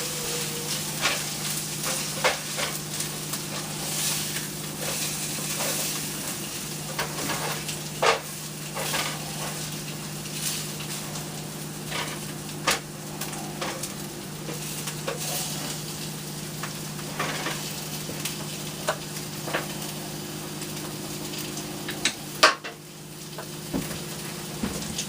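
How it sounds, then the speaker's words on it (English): Ground meat frying and being mixed in a pan for a homemade red meat sauce: a continuous sizzle with a low steady hum, and spatula scrapes and taps at irregular intervals. "Take and mix all that other meat up with all that other good, yummy stuff."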